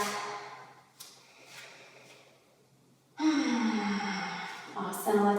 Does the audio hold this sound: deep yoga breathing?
yes